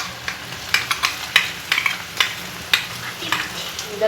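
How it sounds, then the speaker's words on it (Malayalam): Vindaloo masala sautéed in oil in a pan over low flame, with repeated scraping stirs of a spoon over a soft background sizzle, close and fairly loud, no voices. "ലോ ഫ്ലെയിമിൽ വെച്ചിട്ട് വേണം നമ്മളൊന്നത് വഴറ്റിയെടുക്കാൻ."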